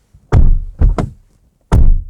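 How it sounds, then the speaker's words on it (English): Doors of a Mercedes E55 AMG W210 sedan are shut, giving a few close, loud thunks: a single slam, then two in quick succession, then one more after a brief pause, with no talking. "just have a listen to the door slam."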